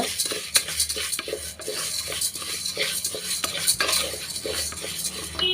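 Green gram dry-roasting in a pressure cooker, stirred continuously so the grains rattle and a spoon scrapes rhythmically against the metal pot, close and loud with a faint sizzle underneath.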